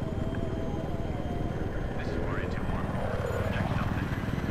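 A helicopter in the video game Battlefield 3 flies with a steady rotor drone under the players' talk, which runs throughout. A few whooshing passes also come through.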